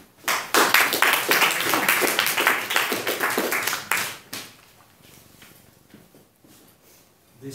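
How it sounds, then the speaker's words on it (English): An audience at a Toastmasters speaking meeting bursts into loud, dense applause lasting several seconds, then fades to quiet room noise with a few scattered claps. "a big round of applause for a story called Engage the Enemy,"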